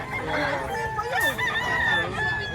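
A rooster crows at a fighting-cock market in Padre Garcia, Batangas, a long rising and falling call amid nearby clucking fowl and faint background chatter.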